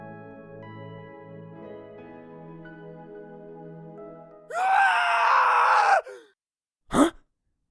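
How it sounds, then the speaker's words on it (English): A sudden high, strained scream in an anime fan dub of Steins;Gate rises out of quiet sustained music, lasts about a second and a half, then breaks off, followed by a short sharp cry. "Was that a scream?"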